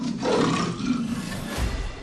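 A deep, rumbling leopard growl, close and loud, with a heavier low burst near the end.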